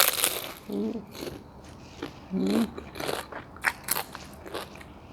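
Crispy homemade spring rolls dipped in sauce are bitten into with repeated close, loud crunches and crackles, followed by chewing in an uneven rhythm.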